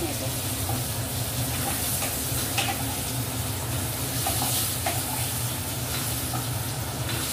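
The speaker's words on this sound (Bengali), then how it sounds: "তারপর আলুগুলো লাল করে ভেজে নিলাম" Potatoes fry in hot oil until reddish, with a steady, loud sizzle and hiss that runs unbroken throughout, close to the pan.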